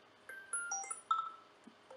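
iOS 7 style ringtone playing from the iLauncher app on an Android phone, a short quiet run of bright electronic chimes and beeps in quick succession with no talk.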